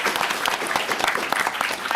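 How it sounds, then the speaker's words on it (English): Audience claps warmly at the close of an alumni entrepreneurship panel, a lively, close burst of applause with individual hand claps standing out in an uneven rhythm. "round of applause"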